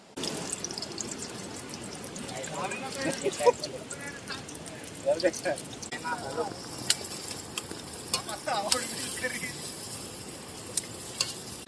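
Spices, starting with chili powder, are tipped into well-heated oil for a large-fish recipe cooked outdoors at a dam-side location. The oil sizzles and crackles steadily with stirring and scraping, while a person talks over the frying.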